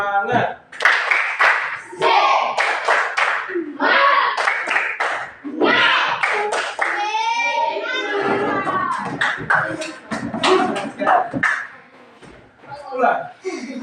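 Children in an elementary school classroom clap hands in a rhythmic clap chant, bursts of claps mixed with a teacher's and kids' voices speaking and chanting over them.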